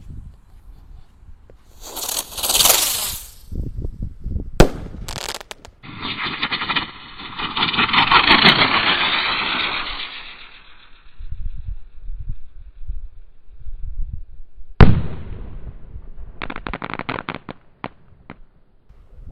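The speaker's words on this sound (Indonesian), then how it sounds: "Ini mutar dulu, terbang dan meledos seperti Roman candle." A Ski Cruiser firework is lit, hisses and whistles as it spins and flies, then pops off several Roman-candle-style bursts, with a loud crack around the middle and short bangs near the end.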